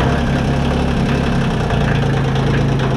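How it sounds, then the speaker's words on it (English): Kubota L2350 tractor diesel engine running at idle, a steady loud low rumble with even chugging pulses throughout, close by with no talk. "Clutch in, has to be in,"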